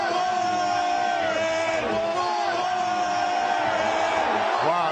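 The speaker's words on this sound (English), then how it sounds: "Wow, they're cheering." A packed stadium crowd of Philadelphia Eagles fans roars continuously, a dense wash of cheering and yelling that stays loud and even throughout.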